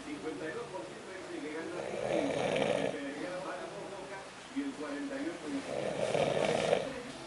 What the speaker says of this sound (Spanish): Ese fue el roncador simple.